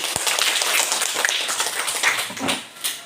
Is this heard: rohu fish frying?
no